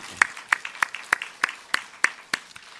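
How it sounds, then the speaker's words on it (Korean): A church congregation at a Sunday morning service gives a measured round of applause, with distinct sharp claps spaced evenly, fairly close and clear, without talk. "하나님께 영광의 박수 다시 한번 크게 올리겠습니다."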